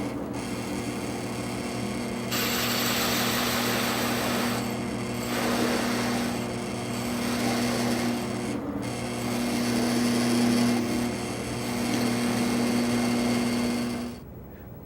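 A drill press boring into wood runs with a steady motorized hum and a grinding rasp, rising and easing over several seconds before cutting off. No voices.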